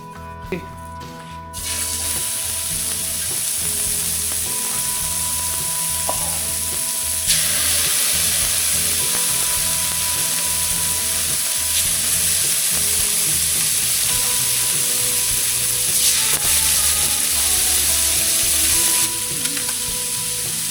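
Blackened bass fillets sizzle steadily in a hot pan, a loud continuous frying hiss with occasional crackles and stirring scrapes, no voices.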